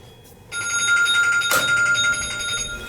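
Telephone bell ringing with an incoming call, a loud steady electronic trill that starts abruptly and holds, with a brief knock partway through.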